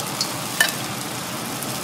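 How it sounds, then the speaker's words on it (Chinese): Crab going into a wok of boiling ginger-scallion sauce, giving a steady loud sizzle and bubbling hiss with a few sharper stirring clatters near the start. "汤烧开之后呢，然后把这个蟹放下去"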